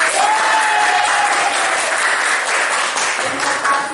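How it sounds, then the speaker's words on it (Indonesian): A classroom of students claps loudly and steadily for about four seconds, a dense, close wash of hands with no talking over it. "Oke, beri tepuk tangan."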